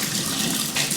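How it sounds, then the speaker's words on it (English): Filtered water pours over soaked almonds in a steady, loud, close rush that brightens briefly near the end. "I'll put filtered water in here"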